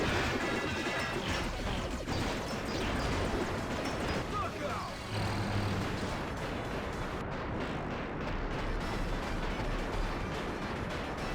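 Rapid explosions in the Mighty Morphin Power Rangers: Rita's Rewind game, a dense, continuous barrage of crashing booms with a voice talking over it.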